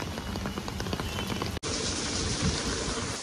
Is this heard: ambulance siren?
no